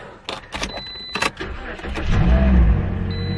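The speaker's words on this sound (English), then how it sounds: "let's see if the car starts" A car engine is cranked after a few clicks and door sounds, then catches and settles into a loud, steady idle close by.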